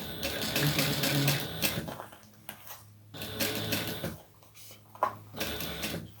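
A sewing machine stitching on a sew-along project, a rapid mechanical whir of needle strokes running in bursts with short pauses between runs, close and clear without talk.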